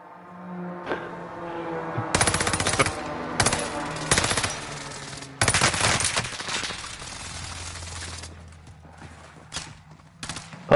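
Video game gunfire from an unusual gun, sounding as several loud broadband bursts of rapid shots in clusters, with quieter tonal game sounds between and after them.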